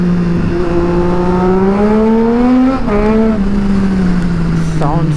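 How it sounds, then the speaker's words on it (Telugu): A Triumph Street Triple 675 motorcycle engine revs loudly and close during a night street ride, its droning tone climbing steadily in pitch with a whistling edge, then dipping briefly before rising again. "స్ట్రీట్ ట్రిపుల్ ఇంజిన్కి ఏంటంటే విజిల్ సౌండ్ వస్తుంది 675."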